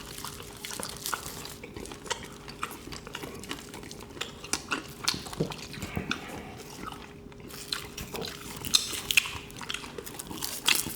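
Someone eats gwamegi, the Pohang specialty of dried fish, wrapped with seaweed and vegetables, producing faint, close chewing and soft wet bites in a quiet room, with small clicks scattered throughout and no speech.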